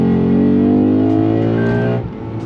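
A modified Lexus GS-F accelerating hard at full throttle, its engine note climbing loudly and steadily before dipping sharply as the transmission shifts up near the end.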